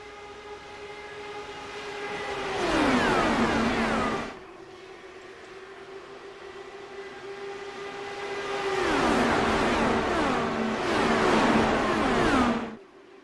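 IndyCar race cars in a racing video game at Indianapolis roar down the long straightaways, two loud surging passes of engine whine sweeping and falling in pitch, separated by a steadier, quieter drone.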